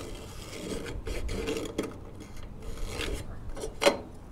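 A pencil rasps and scratches against a hard gutter surface in short, uneven strokes while drawing a circle, close up, with a sharper tap near the end.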